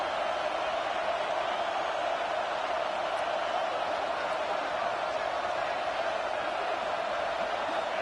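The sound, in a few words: football stadium crowd making noise during red zone defense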